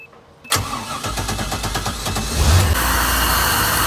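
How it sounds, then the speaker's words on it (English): An Indmar Monsoon inboard ski boat engine cranks and catches after a moment of near-silence, then settles into a loud, rumbling idle with a brief rev, close by and without speech. "we're gonna fire the engine up"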